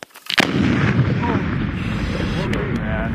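An explosive charge detonates during a military engineer battalion exercise, a sharp loud blast followed by a long rolling rumble that fades slowly, with faint voices in the background.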